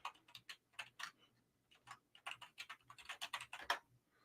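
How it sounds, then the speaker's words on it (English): Rapid clicking keystrokes on a computer keyboard, bursts of close typing with short pauses, fairly faint and with no voices. "let me make sure I'm typing right"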